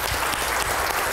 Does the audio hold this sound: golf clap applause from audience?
yes